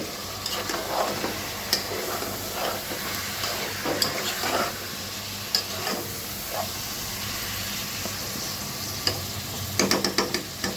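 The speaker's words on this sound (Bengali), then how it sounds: "ঠিক পাঁচ মিনিট পর আবার একটু নাড়াচাড়া দিয়ে দিয়েছি" Beef curry with spices being stirred in a pan gives a constant loud sizzle and hiss with scattered scraping and clattering stirs, close and unaccompanied by talk.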